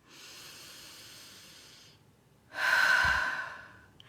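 A slow breath during a grounding meditation: a long soft airy inhale, a pause, then a louder rushing exhale close to the microphone, with no talking.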